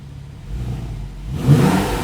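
Naturally aspirated 3.8-litre flat-six of a Porsche 911 991.1 Targa 4S with Chrono Sport Plus, sport mode switched off, idles low, then rises into a single close rev that swells and holds, with no voices.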